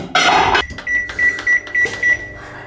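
A microwave oven heats a frozen kebab, starting with a short loud rush and then settling into a steady hum with a thin tonal whine that pulses faintly. No one speaks.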